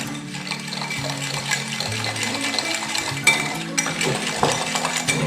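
Dry mustard powder and gin being whisked into a thick paste in a bowl: continuous close clinking and scraping of the whisk against the dish in an uneven rhythm, with a few sharper knocks.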